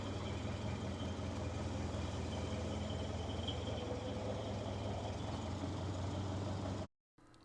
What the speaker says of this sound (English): Listen to that thing, doesn't it sound good? Sounds like a Model A